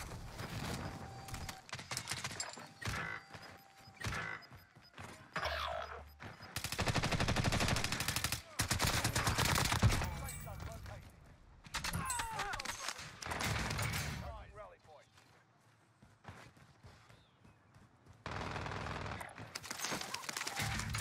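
Bursts of rapid automatic gunfire from an SMG in Call of Duty Cold War Warzone on Rebirth Island, loud rattling volleys of several seconds broken by quieter gaps, mixed with in-game noise and occasional talking.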